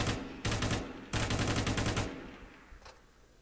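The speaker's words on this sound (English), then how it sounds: "So you can see that the recoil on this LMG is actually pretty low." Bursts of automatic LMG fire in 5.56 from a Shockwave FPS Engine video game, two rapid sustained volleys of loud rattling shots followed by a trailing echo and a faint click.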